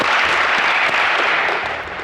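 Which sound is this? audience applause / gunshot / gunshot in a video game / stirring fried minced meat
audience applause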